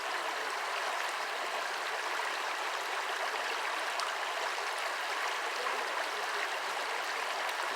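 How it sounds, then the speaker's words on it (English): A babbling brook on the Gunpowder River gives a continuous, even rush of flowing water, close and steady throughout with no voices. "Look at that, Babbling Brook."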